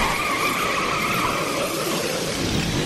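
Sustained tire-squealing skid from a motorcycle in the video game Final Fantasy XIII, loud and steady for a few seconds with no talking.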